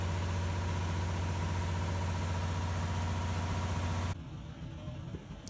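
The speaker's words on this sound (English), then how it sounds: "You can see the engine and genset that produces electricity." Engine genset idling inside a biomass gasification power generation module on a farm in Winters, California, a loud, steady low drone with constant hum that cuts off abruptly near the end, leaving quiet background.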